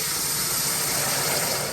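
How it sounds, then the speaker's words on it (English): Steam hisses hard from a 5-liter pressure pot of cooking dal as water is added, a loud, steady, close roar of hissing with no pause. "I couldn't talk while I was adding it because the steam was too loud"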